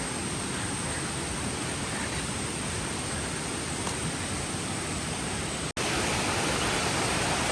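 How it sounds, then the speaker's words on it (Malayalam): A forest waterfall at Kakkad, lying below a walking path, sends up a constant broad rushing noise from the path above, with a brief dropout near the end. "ഇവിടെയാണ് വെള്ളച്ചാട്ടം ഉള്ളത് താഴെ. ഇപ്പൊ തന്നെ ശബ്ദം കേൾക്കാം."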